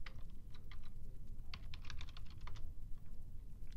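Typing on a computer keyboard, a close run of quick light key clicks in short irregular bursts with brief pauses between.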